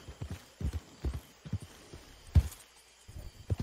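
Horse hooves clip-clop in a steady galloping rhythm during a ride in the Red Dead Redemption 2 video game, a run of low, thudding beats heard alone and fairly close.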